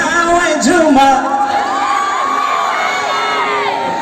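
Boys in a live concert crowd at Tulsipur, Nepal, during a performance, whoop and shout loudly and continuously, with cheering voices layered together close by.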